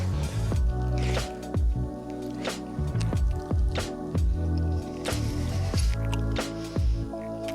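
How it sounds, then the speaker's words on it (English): Liquid drips and squishes while cooked potatoes are drained, with wet spattering bursts repeating about every half second over a steady tonal background. "I needed to drain the potatoes a little more."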